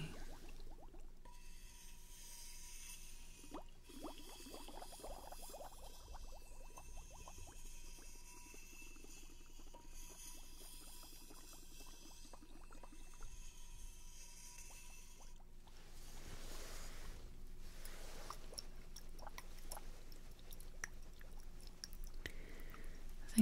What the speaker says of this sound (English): We'll give this another stir,